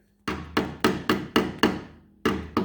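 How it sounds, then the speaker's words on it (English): A small tapping hammer strikes a hard surface seven times in an uneven rhythm, each blow a sharp, close, ringing knock that decays quickly. "Usually pick you up a little bitty old tapping hammer."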